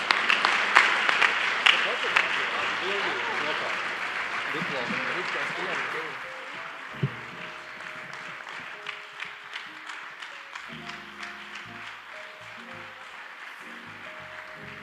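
Audience applause at a volunteer award ceremony, a dense sustained clapping that fades after several seconds, then gives way to a speaker talking over a few scattered claps.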